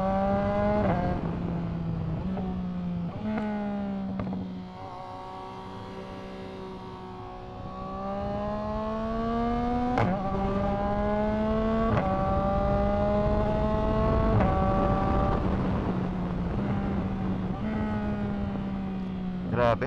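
A Ducati Monster or Royal Enfield 650 motorcycle is ridden on the road, its engine repeatedly rising in pitch through the gears and dropping at each shift, heard from the rider's position amid wind noise.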